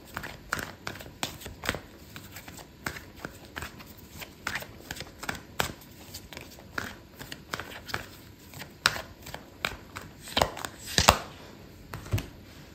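Tarot cards are shuffled and handled in a steady run of soft, papery flicks and taps up close, ending in a few sharper snaps as a card is pulled from the deck.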